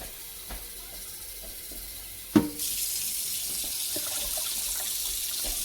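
Water streams steadily from a tap into a sink, a continuous hiss with a small clunk partway through.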